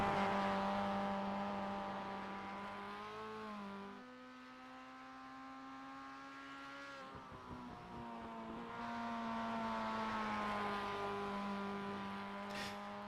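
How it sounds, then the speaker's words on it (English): An MX-5 Cup race car in the iRacing sim slides sideways on its outlap, engine note holding steady then dipping and climbing again as it drifts, loud and continuous throughout. "having a little fun out there on his outlap, getting the car sideways, doing a little drifting"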